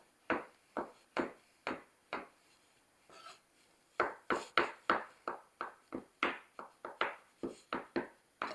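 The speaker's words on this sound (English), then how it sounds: "And let's chop these up." A knife chops boiled eggs on a cutting board in steady, crisp taps, with a brief pause and then a quicker run of close, distinct strikes.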